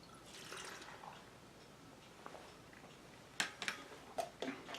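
Water poured from a cup onto sriracha sauce ingredients gives a faint, steady trickle with soft splashes, ending in a few sharper drips and clinks.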